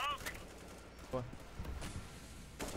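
Scattered bursts of gunfire in a Counter-Strike match, a few sharp volleys spread over several seconds against a steady noisy background.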